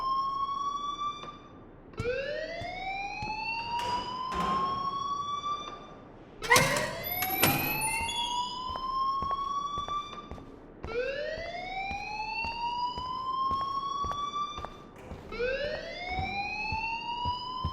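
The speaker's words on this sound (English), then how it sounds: "please turn off that alarm since that's your job" A rising, wailing siren-style alarm from the Life Is Strange video game sweeps upward again and again in repeated cycles, loud and clear, with a few brief bangs and no talking.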